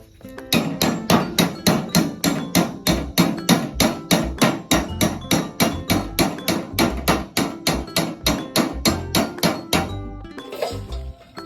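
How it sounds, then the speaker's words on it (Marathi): A hammer and tools cut through a thin sheet-metal tin box, a patra dabba, with sharp metallic blows struck at a quick, even rhythm, about two per second, loud and close, ending after roughly ten seconds in a few scattered clanks. "डबा आपला कापून झालेला आहे"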